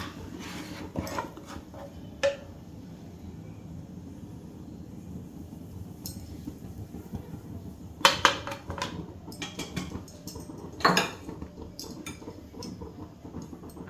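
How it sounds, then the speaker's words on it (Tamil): Egg masala gravy being stirred slowly in a cooking pan over low heat, with scattered spoon clinks and scrapes against the metal, louder knocks near the middle, over a faint steady background hum. "ஸ்லோவிலே வச்சுட்டு கலக்கிவிடுங்க"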